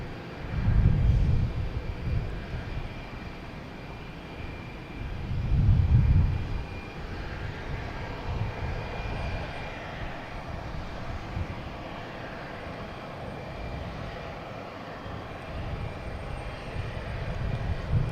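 A jet airliner rumbles at Boston Logan Airport as it rolls toward takeoff, a steady distant engine roar with low surges swelling and fading, heard alone without talk.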